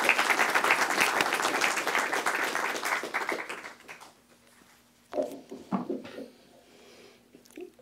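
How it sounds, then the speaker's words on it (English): Audience applause at a formal diplomatic evening event, a dense burst of clapping for about four seconds that dies away, followed by scattered faint claps and quiet room noise. "Please join me in applauding Ambassador Kamal"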